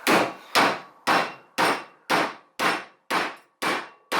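Soft-faced mallet tapping a suspension part home on an MGB during a full suspension rebuild, eight evenly spaced, fairly loud knocks each with a short ringing decay, heard alone.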